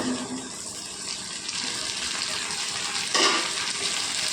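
Cut okra fries in hot oil, a dense continuous sizzle with a sudden brief burst of crackle near the end, close and loud, no talking.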